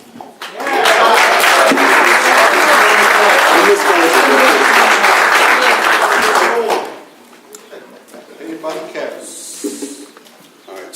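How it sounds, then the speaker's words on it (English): Loud, sustained applause from an audience at a 10th Ward candidates forum held at Our Lady of Guadalupe, filling the room for about six seconds before cutting off abruptly, leaving quiet room murmur behind. "just want to remind everyone to hold their applause to the end"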